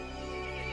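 A horse neighs in Resident Evil Village, a loud, sustained whinny set against a dense, steady game soundscape.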